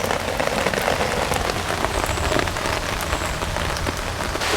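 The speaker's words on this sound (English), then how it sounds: "but that rain is getting heavier" Heavy rain pours steadily in a park, a dense, loud hiss of drops striking surfaces and foliage with no break across the whole stretch.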